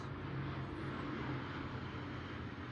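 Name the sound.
airplanes flying overhead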